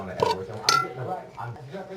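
A flour mixture being stirred in a metal pot for a beef ragout, giving two sharp scraping clinks of a spoon against the pot, close and brief, with soft shuffling between them.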